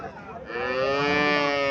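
A Friesian dairy cow at a cattle market lets out a single loud, close moo that swells after a brief rumble and holds steady to the end, with no talk over it.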